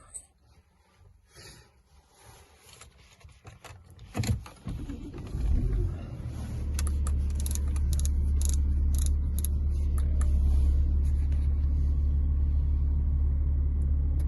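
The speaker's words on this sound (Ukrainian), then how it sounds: "Зараз заведемо машину." A 2010 Audi A5 3.0 TDI quattro diesel engine cranks and catches, then settles into a steady low idle rumble that continues to the end, after some clicks and cabin sounds.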